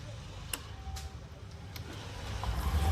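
A parked vehicle is started for the drive home: faint clicks and a quiet idle, then a low engine rumble that swells toward the end.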